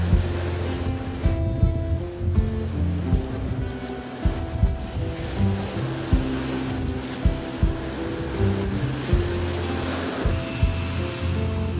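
Sea waves break at Liepāja beach in rolling surges under gusty wind, a loud, near wash with irregular crashes and a constant low roar.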